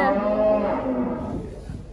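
Cattle at an agricultural show moo loudly and close by, one long drawn-out low call that tails off, with no talking over it.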